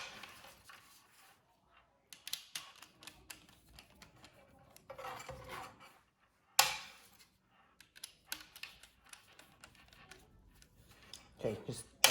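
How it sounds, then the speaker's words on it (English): Screws being taken out of a Corsair 5000X RGB PC case, with scattered small metallic clicks, scrapes and rattles close by in a quiet room, interrupted by a few sharper clacks and handling noises. "just a few more screws. And they should all be out."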